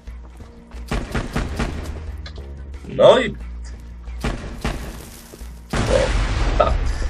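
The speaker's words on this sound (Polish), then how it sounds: "Co dobre, Creeper rzeczywiście wybucha." A creeper explodes in the Minecraft video game with a single booming blast in the middle, among scattered thumps and game sounds, while someone talks throughout.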